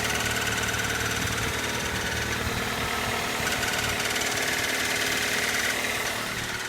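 A Toyota 1ZZ engine idles steadily up close with a faint knock under its running hum, a continuous mechanical drone with no talking.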